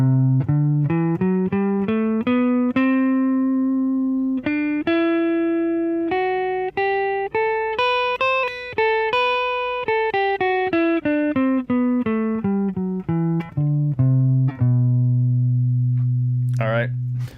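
A B Phrygian scale played as a run of clear, evenly paced single notes climbing and then descending, on a bright sustained tone with no talking over it, ending on a held low note.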